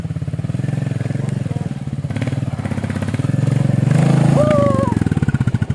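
Motorcycle riding along a muddy forest road after rain in a jungle, its engine running steadily and loud throughout with a brief rev toward the end, and a voice speaking over it.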